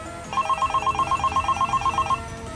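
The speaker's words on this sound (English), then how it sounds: "when the phone rang" A hotel room telephone rings with a steady run of rapid electronic trills for about two seconds, fairly quiet against a low background hum, with no voices.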